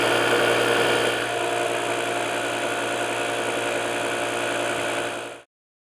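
A LOKITHOR AW401 portable 5-in-1 power unit's tire inflator compressor pumps up a car tire with a steady, loud mechanical drone and buzzing vibration, running alone for about five seconds before cutting off abruptly.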